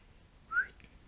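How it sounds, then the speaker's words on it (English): A single faint, brief whistle rises quickly in pitch, then nothing more against a quiet background. "I just whistled at her. It was a very weak whistle."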